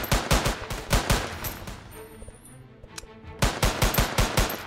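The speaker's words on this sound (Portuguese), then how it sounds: "Ele tá atirando pra cima." Rapid gunfire in a Roblox game, bursts of sharp shots in quick rhythm, then a brief lull with faint electronic tones before the loud volley resumes.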